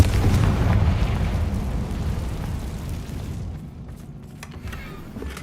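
A Confringo fire spell explodes in Hogwarts Legacy, a deep rumbling boom that swells at once and then slowly fades into a low tail, loud and close.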